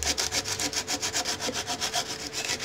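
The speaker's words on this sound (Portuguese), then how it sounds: "Agora eu venho com essa lixa aqui, ó," Sandpaper rubs back and forth across the rim of a handmade wooden mug, making a close, steady rasping stroke roughly five times per second, with no voices.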